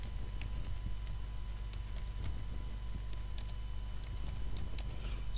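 Typing on a computer keyboard gives a quick string of light clicking keystrokes, faint and close, over a steady low background hum.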